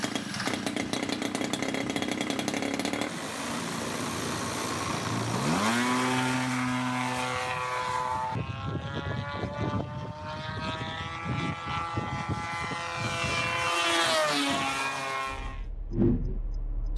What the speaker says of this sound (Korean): 요구된 것과 동급의 엔진 소리를 들어봤습니다.